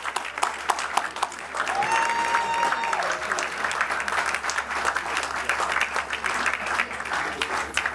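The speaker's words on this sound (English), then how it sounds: "let's give her a big round of applause, Gillian Williamson" Sustained applause from a crowd, steady clapping throughout with a brief tonal sound in the background.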